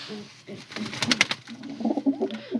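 Pigeons coo in soft, low, repeated bursts nearby, with a flutter of wings or rustling partway through and faint voices in the background.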